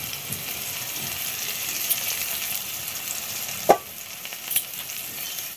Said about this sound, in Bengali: তো আলুগুলো ভাজা হচ্ছে, কি সুন্দর করে ভেজে নিয়েছে